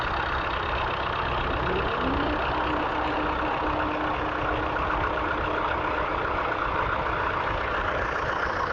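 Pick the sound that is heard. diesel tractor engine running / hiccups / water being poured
diesel tractor engine running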